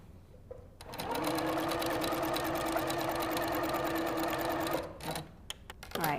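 A Little Rebel 4 sewing machine runs with its top thread tension cranked too tight, stitching in a fast, steady close whir for about four seconds before stopping, followed by a few handling clicks.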